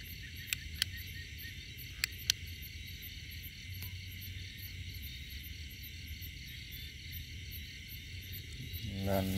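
Crickets chirping at night in natural surroundings, a faint, continuous high trilling with a few sharp clicks early on and a low rustling swell near the end.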